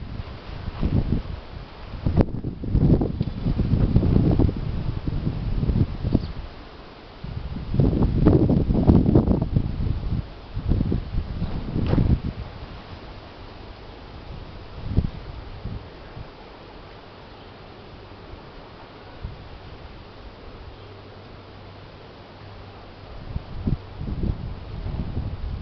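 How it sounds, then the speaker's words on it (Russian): Strong gusts of wind rumble and roar across the microphone in the first half, then ease into a quieter breezy hush with faint rustling. "Вот весь ветер сюда уже пришел."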